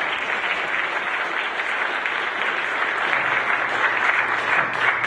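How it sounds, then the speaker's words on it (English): Steady, close applause from the audience at a Medicare debate held at a medical college, with dense overlapping clapping that holds evenly throughout. "Kim, did you lead that applause yourself and let everybody else join in?"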